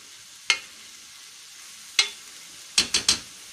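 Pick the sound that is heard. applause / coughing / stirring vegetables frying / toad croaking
stirring vegetables frying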